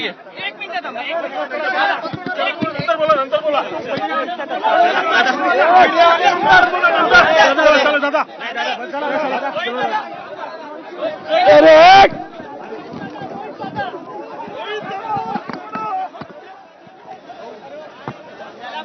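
A loud, agitated crowd of political activists mills outside Vidhan Bhavan in Nagpur as police detain people, a dense babble of shouting voices with surges and a brief sharp peak near the middle.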